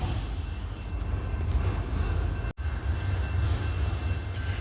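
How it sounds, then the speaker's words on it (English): Old train rolling through a small Arkansas town, a steady low rumble heard from nearby with a brief dropout midway and no talking. "The old train coming through."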